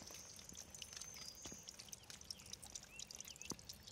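Water trickling and pouring steadily as a bottle is filled from a stream on a backpacking trail in Pennsylvania, with faint birdsong above and a few soft knocks.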